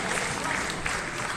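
An audience at the Paris Games Week cosplay contest claps in a dense, steady burst of applause from start to finish.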